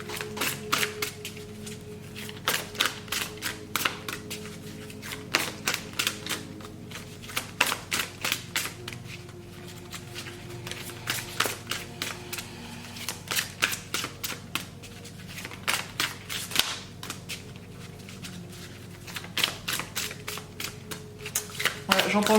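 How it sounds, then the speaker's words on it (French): Oracle cards being shuffled by hand, bursts of rapid riffling flicks repeating in steady rounds over a low background hum, close and fairly crisp. "je te tire une dernière carte avec ce bel outil"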